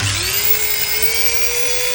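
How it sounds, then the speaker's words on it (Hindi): An electric drill machine powered by a 2000-watt locally made Pakistani solar inverter whines steadily at high speed, its pitch rising as it spins up and then holding a constant, close, continuous tone. "मैं आपको सिर्फ ना इस पर ड्रिल मशीन चेक करवाता हूँ लगा के"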